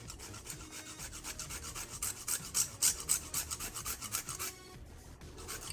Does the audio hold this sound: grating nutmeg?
yes